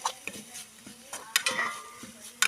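A spatula stirs drumstick flower thoran with egg and coconut oil in a pan. It makes several quick scraping strokes, close and fairly soft, with a faint sizzle beneath.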